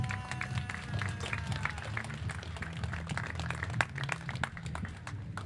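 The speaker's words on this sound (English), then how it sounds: "just help me thank these guys by giving them a big round of applause for coming" An audience applauds panel guests at an interview event, with steady, dense clapping that stays moderately loud and even throughout, without speech over it.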